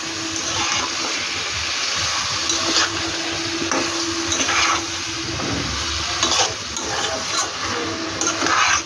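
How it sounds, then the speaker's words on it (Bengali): Mutton with spices sizzling and frying in a pan for a mutton curry, a steady close hiss with occasional scraping stirs, continuous throughout with no talk. "তো এটা ভালো করে কষিয়ে ফিরছি।"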